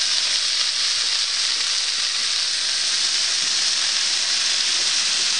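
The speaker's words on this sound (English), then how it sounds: "Now while those are finished searing," Lamb pieces searing in a hot pan for Indian lamb wellingtons, a steady, loud, continuous sizzle and spatter with no pauses and no talking.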